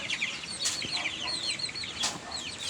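45-day-old broiler chickens in a pen give soft, repeated clucks and chirpy calls, several birds overlapping at close range with a couple of brief wing flutters.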